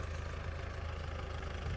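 A tractor engine idles steadily close by, a low, even chugging throb that holds for the whole moment with no voices over it.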